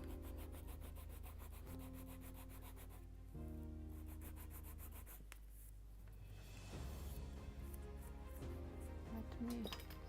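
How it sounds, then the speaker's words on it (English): Steady rubbing and scraping of sanding on the wooden hull planking of a Mayflower model ship kit, close up, with a low machine hum underneath and shifting pitch as strokes change. "a little more sanding right here."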